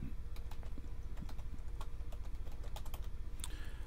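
Steady typing on a computer keyboard, with quick irregular clicks of keys at close range and no talk over them.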